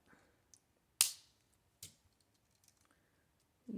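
Cutters snip through tassel necklace strands with a few crisp, close clicks, one sharp cut standing out, then scattered faint taps in an otherwise quiet room.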